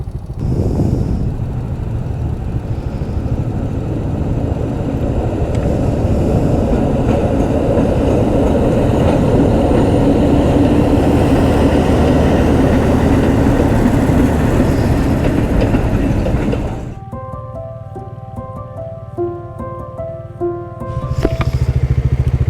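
A train rumbles past a railway crossing in Myanmar for about sixteen seconds, loud and close, then fades, leaving a ringing crossing bell and passing traffic.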